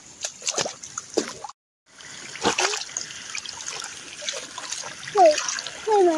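Water trickling and splashing in a small stream below paddy fields, close by with uneven gurgles, a brief drop to silence partway through and a few faint bird-like chirps near the end.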